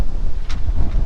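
Strong outdoor wind buffeting a microphone on a hot summer day, a steady low rumble with a brief gusty swell in the middle, no speech.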